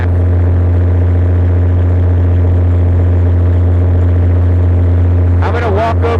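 A Perkins diesel generator engine under load runs loudly and steadily up close, with a deep, constant drone; a voice briefly comes in at the end.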